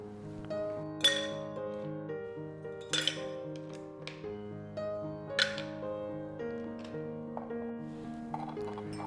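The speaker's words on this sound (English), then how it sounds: "Let's now start with few ice cubes." Ice cubes dropped one by one into a cocktail glass while making a carrot vodka cocktail, giving three or four bright clinks at a slow, uneven pace over quiet background music.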